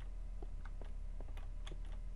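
Computer keyboard keys tapped during a Minecraft gaming session, a handful of quick, light clicks scattered irregularly over a steady low background hum.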